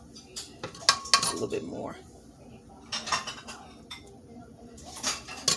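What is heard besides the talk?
plating beef patties and rice onto a plate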